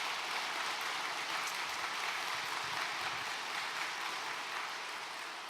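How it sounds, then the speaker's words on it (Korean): Church congregation applause at a thanksgiving service in Jeonju Seomun Church, steady fairly soft clapping from a crowd sustained throughout and easing slightly at the end. "한번 영광의 박수 드리겠습니다."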